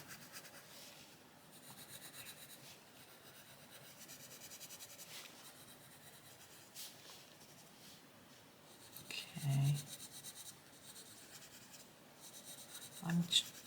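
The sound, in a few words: Koh-I-Noor Polycolor coloured pencil colouring on paper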